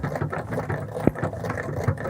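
A treadle sewing machine doing free motion quilting on a feather pattern runs as a steady mechanical clatter, with a rhythmic rattle and faint thumps from the foot-driven treadle throughout.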